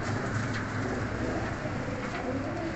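A loft of fancy pigeons in Faisalabad coos in soft, overlapping calls against a dense, hiss-like background wash, steady throughout and without speech.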